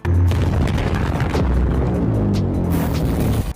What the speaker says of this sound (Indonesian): serangan itu sudah terlanjur meledak